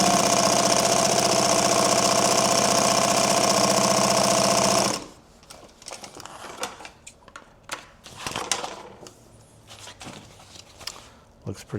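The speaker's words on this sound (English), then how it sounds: "Now I am sewing in green thread here" A sewing machine stitches green thread into a duffle bag, running loud and steady with a dense mechanical whir for about five seconds before cutting out, leaving quieter handling noises and faint movement afterward.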